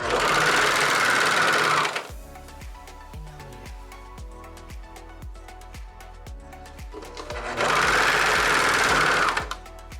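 A sewing machine hems the bottom of a thrifted pencil skirt, with two loud continuous runs of rapid stitching at the start and end, separated by a quieter stretch of slower, evenly spaced mechanical clicks.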